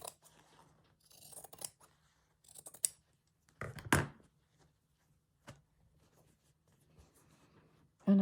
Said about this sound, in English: I might cut a little bit more fabric off of this.